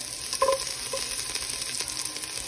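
Garlic sizzling in a pan over medium heat while being fried for chicken adobo, a steady crackling hiss with a few stirring clinks, no talking.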